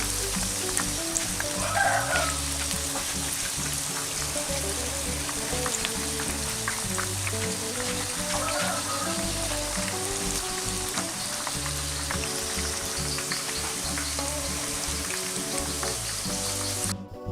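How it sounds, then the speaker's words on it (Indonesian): Eggplant slices deep-fry in hot oil over high heat for chips, producing a dense, continuous sizzle and crackle with a few faint utensil clinks, no voices. "dalam menggoreng terong ini di awalnya itu wajib menggunakan api besar ya."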